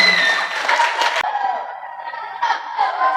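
Clapping from a small crowd at a student speech contest at an Islamic boarding school, fairly close, with scattered voices and a brief cheer over it, fading into a looser patter.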